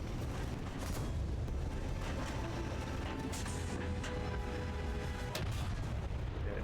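Tank cannon fire in the War Thunder video game, a dense, continuous rumble of booming shots and blasts filling the scene at steady loudness, with no talk over it.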